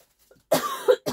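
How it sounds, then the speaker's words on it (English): A single close, sharp cough breaks a short silence, followed quickly by a smaller second cough burst. "I've got a cough"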